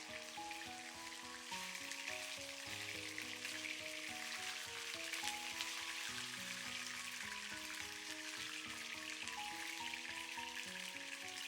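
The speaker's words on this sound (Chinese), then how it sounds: "最后煎至像我这种金黄焦香的边，就全部出锅备用。" Cumin-seasoned chicken breast pan-frying until golden, a constant dense sizzle and spatter with faint crackles, steady and moderately quiet throughout.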